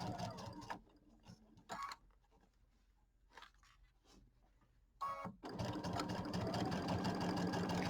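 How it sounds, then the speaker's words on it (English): A sewing machine runs a quarter-inch seam along quilt binding in short bursts at first, then settles into a longer steady whir, close and fairly quiet. "we're going to sew along this edge"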